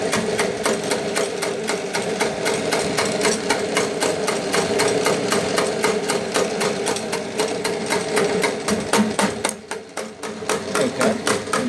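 Funderburk speed boring bar cutting an engine cylinder, a steady mechanical drone with a rapid, even ticking pulse running throughout at moderate loudness, briefly dipping near the end.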